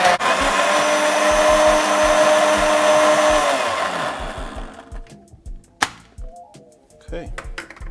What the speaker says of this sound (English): We're gonna blend this down.